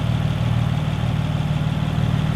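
A car engine idles steadily after work on fuel pressure, a low, even rumble with no audible fluctuation, close and alone.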